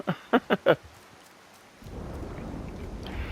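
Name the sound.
rain in the video game Disney Dreamlight Valley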